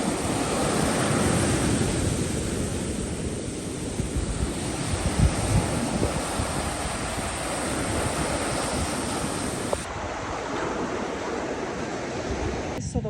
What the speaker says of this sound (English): it's kind of rocky, lots of waves